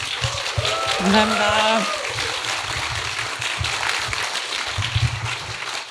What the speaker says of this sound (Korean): 어려운 발걸음 해주신 이세돌 사범님께 동료의 박수를 부탁드리겠습니다